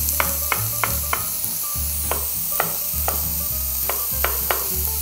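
Chili con carne meat frying in a pan, a loud, steady sizzle broken by regular scraping and tapping strokes of stirring, close up with no talk.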